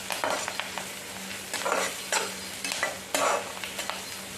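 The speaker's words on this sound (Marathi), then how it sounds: "थोडी कढीपत्त्याची पानं टाकायची लाल होईपर्यंत छानपैकी असं परतून घ्यायचं आपल्याला" Chopped onion and curry leaves frying and being stirred in a pan for a vegetable dish of amaranth stems, a steady close sizzle with repeated scraping stir strokes, no voices.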